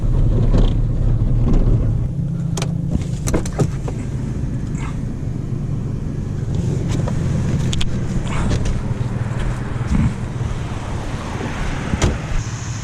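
A Ford AU Falcon drives along a mountain road, its engine and tyre roar forming a steady, fairly loud interior drone with occasional clicks and knocks, and no talking.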